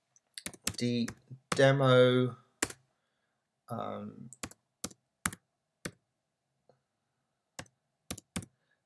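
Computer keyboard keys clicked in short sharp taps, a few isolated presses scattered between bursts of speech, for a new folder shortcut.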